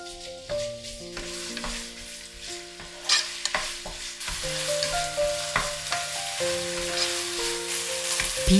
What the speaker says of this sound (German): Rindfleisch anbraten.